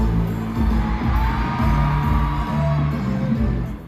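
A concert crowd screams and cheers during a world tour show in Singapore as the group performs, a dense, loud, sustained roar of shrieking fans with music pulsing underneath.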